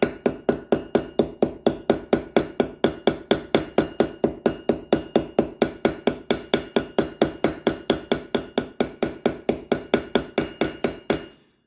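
A hammer taps a knife pin in a fast, very regular rhythm, dozens of sharp close strikes with no pause, then stops.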